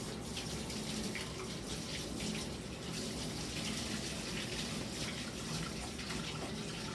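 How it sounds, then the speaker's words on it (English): Tap water running into a kitchen sink while celery and other vegetables are rinsed, a steady even splashing rush at moderate distance with no speech. "All your stuff's got to get rinsed,"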